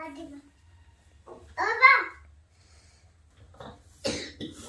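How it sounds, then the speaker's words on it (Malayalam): A young child coughs a couple of times between quiet pauses, with some soft vocal sounds and breathing nearby. "ചുമ ചുമ ചുമ ചുമ."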